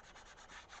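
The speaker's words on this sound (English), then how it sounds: "Just sorry about the squeaky noise." A craft tool rubs on a glass craft mat in a short, faint, continuous scratchy squeak with slight rhythmic pulses, close and with no speech.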